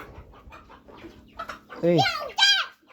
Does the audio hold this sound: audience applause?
no